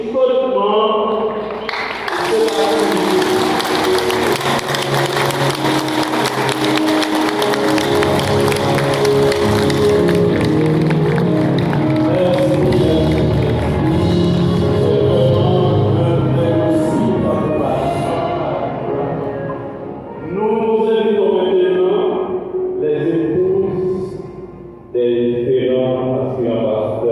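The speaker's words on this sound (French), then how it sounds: "je vous prie de vous lever et applaudir chaudement" A church congregation stands and claps warmly for newly installed pastors, sustained loud applause with some cheering, fading then resurging near the end, with voices mixed in.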